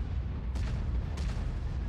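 Two heavy booming tank cannon blasts in a video game, a little apart, deep and rumbling over a low continuous roar.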